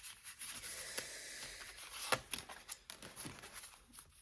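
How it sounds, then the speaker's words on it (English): Soft, close rustling and flicking as a deck of oracle cards is shuffled by hand, with irregular light slaps and rubs at a quiet level. "Too many cards. We'll keep shuffling."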